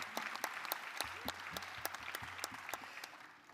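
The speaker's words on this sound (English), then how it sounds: "give Lottie a round of applause" Scattered applause from a modest audience at a DNC Women's Caucus meeting in Chicago, with distinct individual claps at a moderate distance and a faint voice beneath, tapering off at the close.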